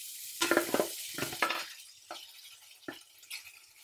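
A spoon stirs and tosses semiya pulihora in a pan, giving a handful of soft scraping clinks and light sizzle in irregular bursts, quiet and close with no talk.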